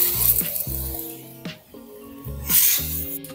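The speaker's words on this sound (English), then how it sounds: "I'm just going to spray it on the tyres" Citrus pre-wash is sprayed onto the tyres of a track car in several short, close hissing bursts from a trigger sprayer, with brief mechanical clicks and squeaks between sprays.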